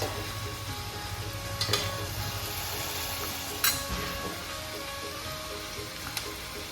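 Tomatoes cook in hot oil in a pan for a Gatari special recipe, giving a steady close sizzle with a few sharp clinks from stirring and no voices.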